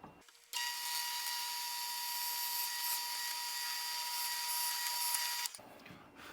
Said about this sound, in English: 9/64 hole through everything at once.